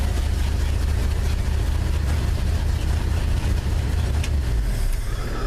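Steady, loud low-pitched rumble of a 1974 Ford F250 engine running after a cold start, close by and unbroken, with no voices over it.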